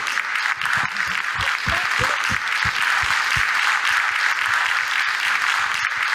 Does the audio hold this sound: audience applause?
yes